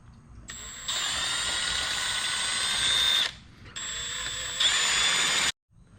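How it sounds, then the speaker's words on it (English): Power drill boring holes through a Harley-Davidson Dyna/Sportster gauge bracket, two steady high-pitched whining bursts of about three and two seconds with a short pause between, loud and close with no talk. "I'll start drilling these out."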